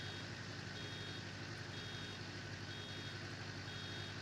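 Steady electronic warning beeps from farm machinery, a baling press, in the Farming Simulator 19 video game, repeating evenly over a constant engine drone with no talking.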